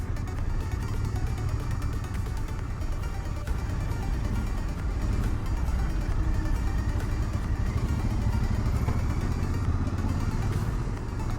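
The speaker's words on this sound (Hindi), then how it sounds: "बाइक का फ़ायदा उठाते उठाते साइड साइड से निकल जाते हैं।" A motorcycle weaves through Delhi traffic on a summer ride, its engine a continuous rumbling drone with wind rush and surrounding road noise, fairly loud and steady throughout, without speech.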